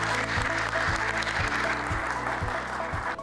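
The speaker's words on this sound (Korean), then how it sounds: "큰 박수로 맞이해 주십니다" Sustained audience applause welcoming a speaker at a tourism lecture in Korea, dense clapping over a steady rhythmic low thump of background music, holding even before fading slightly at the end.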